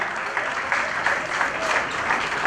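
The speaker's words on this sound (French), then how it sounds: "On applaudit pour le président du Sénat." An audience at a public awards event applauds the Senate president, a dense, steady burst of clapping from many hands, fairly close and filling the whole moment.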